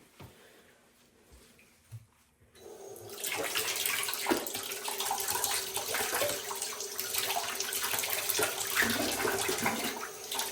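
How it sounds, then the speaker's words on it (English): Cold water gushes from a tap for rinsing while washing a dogwood dress, starting after a couple of seconds of quiet handling noises and then running loud and steady to the end. "So we're gonna run some cold water."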